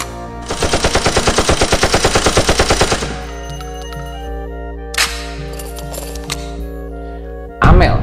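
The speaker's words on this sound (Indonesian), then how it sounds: "Dan ditembaklah Jenderal Ahmad Yani lewat pintu jendela kaca." Rapid burst of machine-gun style gunfire sound effects, about two dozen sharp even shots over two and a half seconds, followed by a quieter music bed with a few isolated impacts and a final loud hit.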